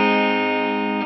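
A clean, dry electric guitar tone with a touch of reverb rings out as one sustained chord through a delay pedal setup, loud and close, then fades slightly at the end.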